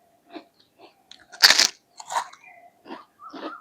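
Fried homemade tomato papad being bitten and chewed up close, one loud crisp snap followed by several softer crunching bites spaced through a quiet background, no talking.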